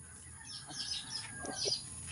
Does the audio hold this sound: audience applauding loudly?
no